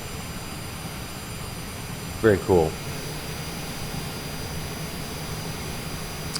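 Jet engines of a large airliner taxi in a flight simulator game, giving a steady, droning whine with thin high-pitched tones throughout, while a voice briefly speaks over it.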